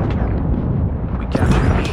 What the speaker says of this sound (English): Friendly airstrike incoming. Predator missile inbound.